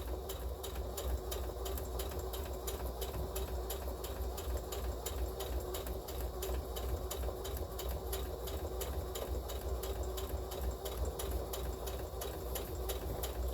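A sewing machine runs steadily, stitching a small seam allowance on a child's fabric tote bag, its rapid even chatter continuous and close throughout with no speech.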